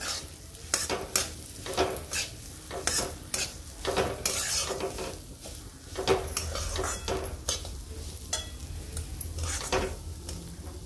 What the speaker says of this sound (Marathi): आता आपण रवा टाकून घेतलाय, तर रव्याला छान भाजून घेऊ।